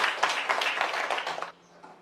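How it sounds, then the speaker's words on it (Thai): Students in a Thai school classroom applaud a classmate, a short burst of brisk group clapping that stops abruptly after about a second and a half, leaving quiet. "ขอเสียงปรบมือเพื่อนหน่อยครับ"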